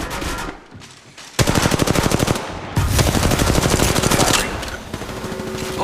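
Rapid automatic gunfire in the mobile battle-royale game Apex Legends Mobile: a brief quiet lull, then two long, loud bursts of fast, evenly spaced shots, with game effects under them.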